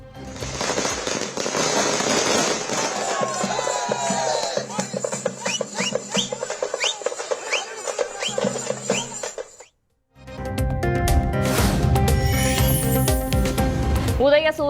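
Firecrackers bursting at a political victory celebration at Anna Arivalayam in Chennai, dense loud crackling over music and crowd noise, a brief pause, then another heavy burst of bangs.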